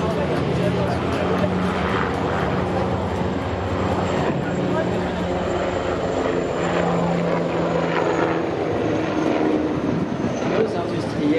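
A loud twin-turbine H160M Guépard military helicopter roars steadily from start to finish during an air show flying display, heard nearby with constant engine hum and rotor chop.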